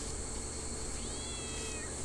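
A cat meows once, a thin rising-and-falling cry heard mid-clip in the horror video game Shadow Corridor, set against a steady hissing ambient drone with no talking.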